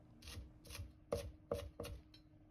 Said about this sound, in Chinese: 接着把小葱的葱白改刀切碎